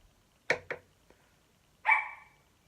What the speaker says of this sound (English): You could probably hear my dog barking.